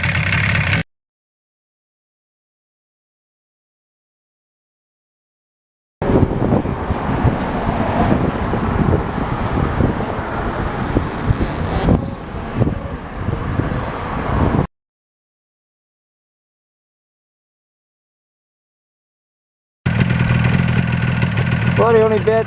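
Restored Yamaha RD400 motorcycle engine running on a ride, a steady engine drone with wind noise heard in stretches broken by sudden silent gaps.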